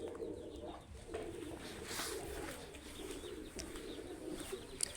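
Pigeons kept by a breeder coo softly and repeatedly in a low, rolling murmur, fairly faint against a quiet background.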